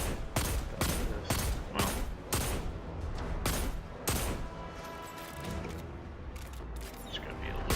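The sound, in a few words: gunfire in video game Destiny 2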